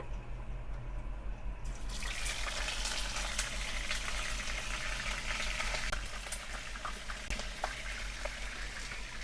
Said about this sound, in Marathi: आता मच्छी हे फ्राय करते